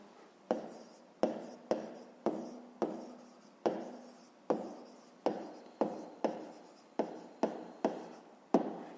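Hand writing on paper, a steady run of short scratchy pen strokes, each starting sharply and trailing off, repeated about a dozen times at an even pace, close and quiet with no voices.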